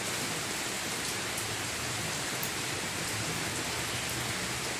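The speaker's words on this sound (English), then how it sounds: "Listen to the rain." Steady rain pours in a dense, even hiss that fills the whole stretch, with no breaks and no voices.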